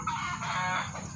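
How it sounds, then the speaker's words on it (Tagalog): Chickens clucking and calling close by in a steady, busy stretch of overlapping fowl vocalizations at a farmyard, with no one speaking. "Ay, maingay naman yung mga manok."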